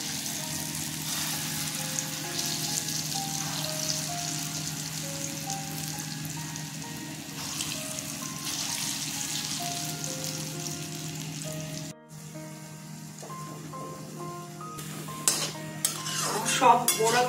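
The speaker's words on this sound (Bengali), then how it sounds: "বড়াগুলো ছেড়ে দেব" Bora fritters of ground paste frying in hot oil in a home kitchen: a steady close sizzle with occasional stirring and utensil clinks, and a louder burst of bubbling and clatter near the end.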